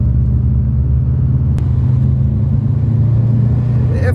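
A loud, deep engine and exhaust rumble from a Subaru Impreza WRX Classic or a Honda Civic Type R FK2, droning steadily and close for about four seconds with one brief click partway through.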